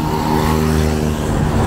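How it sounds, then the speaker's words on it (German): Cars drive along a busy main street in Morocco near a shopping centre, engines humming and revving close by in a continuous loud stream of traffic. "Kommen viele Autos"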